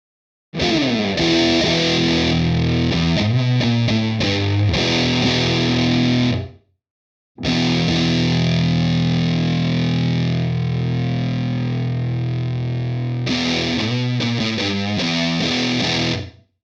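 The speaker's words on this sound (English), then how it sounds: "Let's have a listen to how drastic of a change that we can get from this EQ when it's placed after your pedals." Electric guitar played through effects and distortion pedals with a Sonicake EQ placed after them, ringing loud, sustained chords and notes in two long phrases split by a brief silence, no voices.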